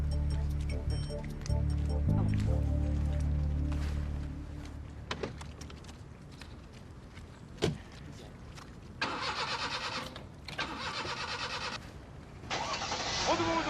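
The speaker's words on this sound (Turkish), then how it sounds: "Vedat, sen de çalıştır bakayım arabayı" Car engine cranking and catching while a group pushes the car by hand, the engine note rising and revving in bursts, with shouting and talk throughout.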